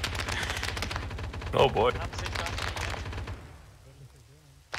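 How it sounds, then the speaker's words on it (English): Sustained light machine gun fire in ArmA 3 with the S.O.G. Prairie Fire Vietnam setting, a loud continuous rattle of rapid shots that fades out near the end while someone speaks briefly over it. "That's a real machine gun."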